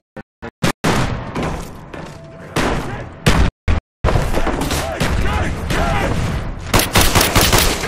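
Gunfire in Black Ops zombies mode, a few sharp separated shots followed by dense, loud sustained firing and booms, with players talking under it.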